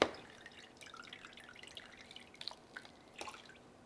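Water drips from a freshly potted Alocasia plant after watering, with small scattered drops landing quietly at an uneven rhythm, a few slightly sharper near the end, in an otherwise hushed room.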